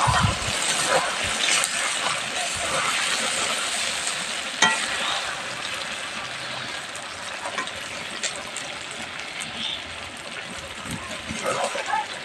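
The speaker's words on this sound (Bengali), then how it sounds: "দেখুন বন্ধুরা মাংসটা ভালোভাবে কষিয়ে নিচ্ছি" Duck meat is stir-fried in a pan for a bhuna curry, giving a constant crackling sizzle broken by repeated scraping stirs of a spatula across about twelve seconds.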